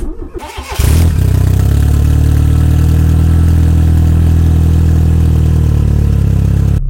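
A turbocharged engine cranks briefly and then catches into a loud, steady idle with a deep rumble close by. It runs continuously until the end.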